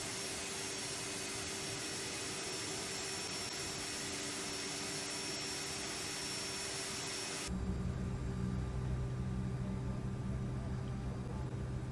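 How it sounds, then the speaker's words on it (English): A CRJ200 jet engine runs in the X-Plane 11 flight simulator, a steady loud broadband roar and whine that switches abruptly to a lower, rumbling hum partway through, with no voices. "Good engine start."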